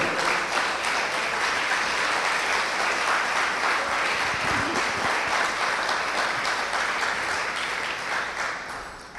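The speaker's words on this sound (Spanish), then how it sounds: "Sí, aplaude al Señor" A church congregation claps in praise during a sermon, a dense, even wash of applause that holds steady and loud for about nine seconds before easing slightly at the end.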